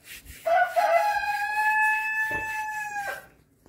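A rooster on a farm crows once, loud and close, a long drawn-out cock-a-doodle-doo with strong harmonics, with faint clucking before it and quiet farmyard background after.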